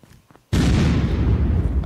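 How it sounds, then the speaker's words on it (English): A rocket explodes in the video game Unturned: one sudden loud boom that hits after a quiet moment and keeps rumbling in a thick roar to the end. "I just heard a rocket explosion."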